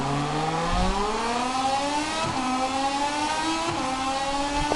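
A race car in a racing video game accelerates out of a corner, its engine note climbing steadily through the gears with brief shifts and small knocks, heard up close and without talk.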